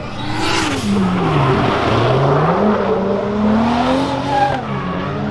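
Cars at a drift event, including a Civic Si and a Camaro, rev hard with screeching tyres, engine pitch rising and falling over a sustained loud squeal, close by and with no talking.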